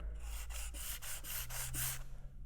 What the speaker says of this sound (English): Put the sandpaper straight on it, and when you start sanding there